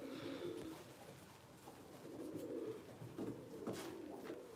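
Several domestic pigeons kept by a breeder give soft, low, throaty coos that swell and fade in loose overlapping phrases against a faint room hiss, with no talking.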